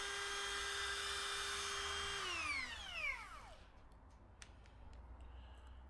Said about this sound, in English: chamfering around the holes on this one